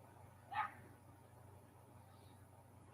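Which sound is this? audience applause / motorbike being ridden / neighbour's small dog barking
neighbour's small dog barking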